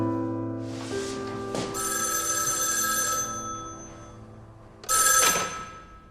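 A landline telephone bell rings in a quiet room, with two bursts of loud, bright, trilling rings separated by a pause, close and clear with no talk over them.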